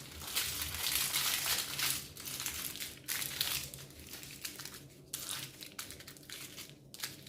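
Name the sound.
aluminum foil being folded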